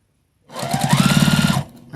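A sewing machine back stitches over the nested seams of a Christmas bowl cozy made from fabric scraps, starting abruptly as a steady, rapid mechanical whir with even needle pulses for about a second, then stopping.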